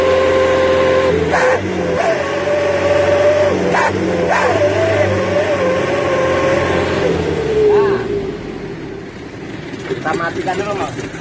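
A truck engine revs hard through a loud, rough modified exhaust, rising and falling over several seconds while people talk nearby.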